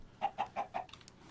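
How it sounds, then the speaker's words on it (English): Minecraft chickens cluck four times in a quick, even rhythm, each short cluck clear and close, followed by a few faint game sounds. "Stupid chickens."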